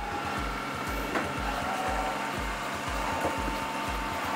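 A Lydsto R1 robot vacuum cleaner runs in quiet mode, giving a steady whirring hum with regular soft low thumps repeating about twice a second, fairly close and without talk.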